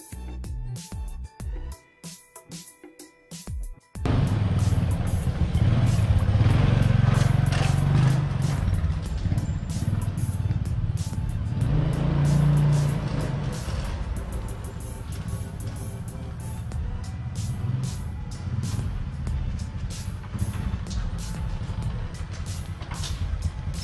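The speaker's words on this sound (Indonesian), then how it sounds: "Ini sudah kita rakit kembali ke motornya. Langkah selanjutnya kita akan melaksanakan uji jalan." A motorcycle runs on a road test after a manual transmission and clutch repair, its engine a loud, steady drone after a brief quieter start and continuing throughout with slight swells.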